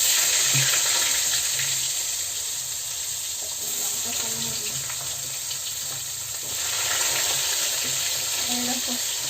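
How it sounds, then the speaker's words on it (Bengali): Continuous sizzle of radish frying in a pan with occasional stirring scrapes, steady and close throughout. "মুলোটাও ভেজে নেবো এরকম করে"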